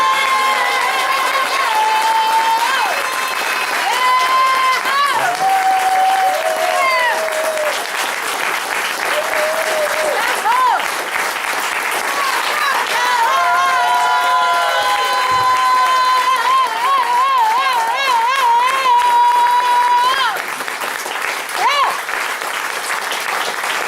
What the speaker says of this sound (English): Let's have the biggest round of applause you could ever imagine for Frank